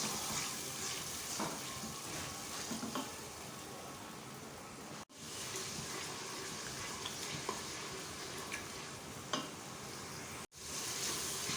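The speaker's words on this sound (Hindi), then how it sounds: "लहसुन अदरक अच्छी तरह से भून लें" Ginger garlic paste frying with golden brown onions in a pan for white lobia masala, a steady dense sizzle close to the mic that runs throughout, with two brief dropouts.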